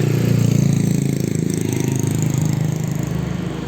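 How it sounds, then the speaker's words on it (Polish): A saw machine cutting strips in an Indonesian village gives a steady, loud mechanical drone with a rapid rhythmic chatter, continuous and close, with no voices. "Jakaś taka pilarka, bo mieli normalnie te pasy do cięcia."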